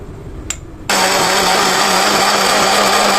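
A blender whirs loudly and steadily while blending malta orange juice made from peeled homegrown malta oranges with a spoonful of sugar, kicking in abruptly after a short quiet moment with a brief click.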